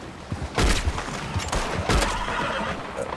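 A horse in the Red Dead Online Wild West game gives two sharp, loud bursts about a second apart over a noisy, gritty game background.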